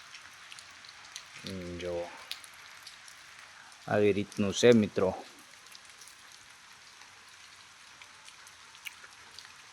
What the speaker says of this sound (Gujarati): અને વરસાદે પણ જમાવટ કરી છે મિત્રો।